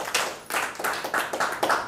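Congregation clapping in rhythmic bursts during a church worship service, a steady run of claps with some cheering texture, fairly close and loud, no talking.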